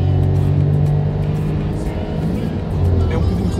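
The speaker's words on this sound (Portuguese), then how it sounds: "É um bocadinho ruidoso, é verdade, os 3 cilindros." Volkswagen Up three-cylinder engine pulling hard in second gear on a highway slip road, a loud, steady, somewhat rough drone with road and wind noise, heard from inside the cabin.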